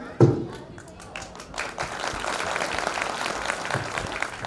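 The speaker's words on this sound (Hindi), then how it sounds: "जोरदार ताली बजनी चाहिए बच्चों के लिए" A crowd at a Sant Ravidas Jayanti celebration claps for a children's self-defence performance. A sharp thump opens before steady applause swells and continues, with a voice speaking over it at first.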